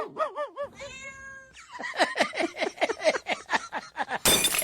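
A cat meows several times at the start, followed by a quick run of short rhythmic sounds and a burst of noise at the end.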